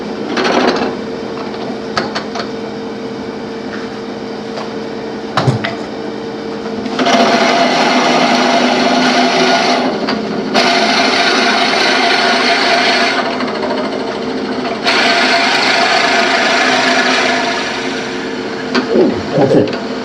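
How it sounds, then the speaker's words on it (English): A drill bores into a wooden Christmas ornament mounted on a spinning lathe at a woodturners' meeting. Several loud, sustained bursts of whirring and grinding rise over the lathe's steady hum, separated by short pauses. "let me turn it back on. And I'm just going to drill a hole."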